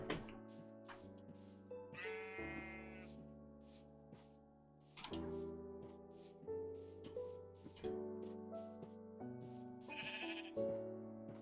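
Minecraft sheep bleating over and over in short, wavering calls, fairly faint, with several bleats in quick succession and nobody talking.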